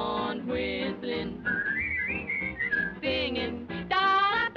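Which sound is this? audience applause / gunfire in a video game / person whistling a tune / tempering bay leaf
person whistling a tune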